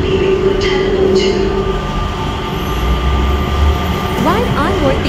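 A Mitsubishi Crystal Mover Skytrain pulls away at Changi Airport on a late Sunday night. A steady, loud rolling rumble fills the car, and a high metallic wheel squeal rises near the end.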